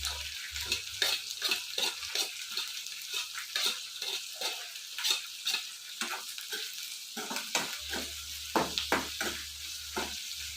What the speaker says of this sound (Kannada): ಇದ್ರ ಜೊತೆ ಜೀರಿಗೆ ಹಾಕ್ಕೊಳ್ತಾ ಇದ್ದೀನಿ